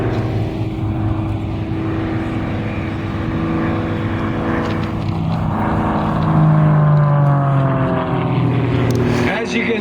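A vintage airshow airplane with a 360 horsepower engine climbs steeply at a World War II Weekend, its loud droning engine rising and falling in pitch as it passes overhead, with a commentator talking over it.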